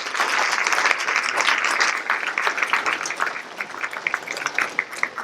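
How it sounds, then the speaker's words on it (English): An audience at a high school National Honor Society ceremony applauds: dense, continuous clapping that is strongest at first, then thins and softens toward the end, with no speech. "Round of applause for everybody."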